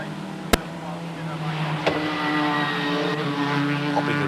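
1987 Ford Sierra touring car climbing a hill at Oulton Park, a sharp bang from the wastegate and a couple of fainter pops over a steady engine roar, with commentary speech running underneath.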